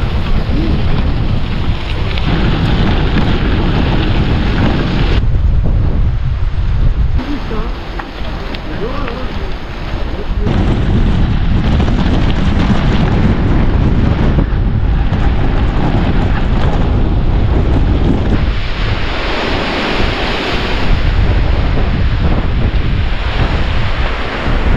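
Strong wind buffets the microphone beside a lake while out gravel cycling in wind and rain, a loud, rough low roar that gusts and eases throughout, with water and surf-like wash underneath and no clear speech.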